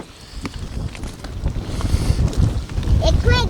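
Strong wind gusting at a reservoir during heavy rains, buffeting the microphone in low, uneven rumbling surges, with a voice near the end.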